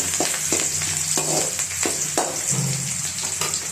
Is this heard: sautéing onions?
yes